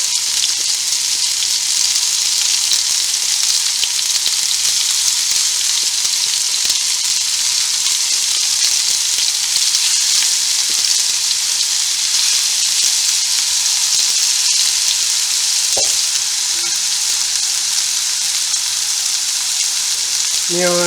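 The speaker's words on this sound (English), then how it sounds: "browning one side of the meat. Press it down onto the pan so it gets some contact." Venison mince browns in a hot pan with a constant, loud, dense sizzle and frying crackle that goes on for twenty seconds, with a few faint clicks of a utensil pressing the meat down.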